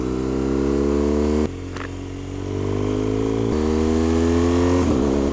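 A motorcycle engine revving hard while climbing a wet hill road in the Picos de Europa, a loud, close, steady drone with rising pitch, a brief drop in revs partway through as the rider shifts, then pulling strongly again.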